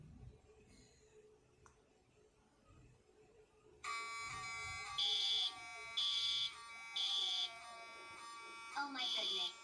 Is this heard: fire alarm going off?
yes